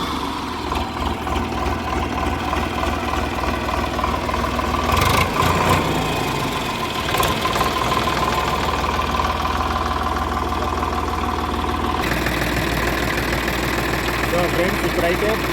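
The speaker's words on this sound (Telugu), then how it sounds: "ఇంజిన్ స్టార్ట్ అవుద్ది." A Sonalika tractor's diesel engine cranks and catches, then settles into a steady knocking idle, close and fairly loud, with a voice talking over part of it.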